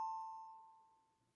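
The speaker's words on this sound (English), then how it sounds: "let me just ring this bell" A single bell is struck once, giving a clear ringing tone that fades slowly over about a second, heard alone in a quiet room.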